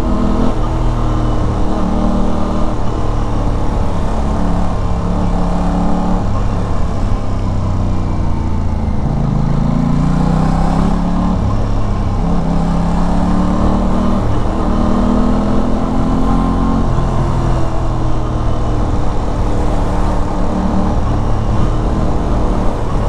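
Steady motorcycle engine drone during a relaxed cruise, a continuous mid-low hum with gentle pitch rises and falls as the rider shifts speed, loud and close with no talking.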